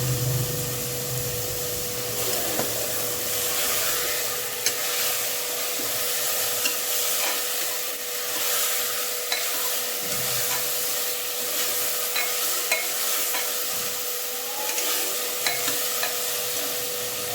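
Tomatoes go into a hot frying pan for drumstick sambar and are stirred, giving a steady, close sizzle with rough scraping strokes of the spoon throughout and no voices.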